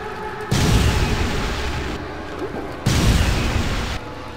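Explosion skill effect in Torchlight 2, two heavy booming blasts of a few seconds each, dense and loud, separated by a brief lull of game ambience.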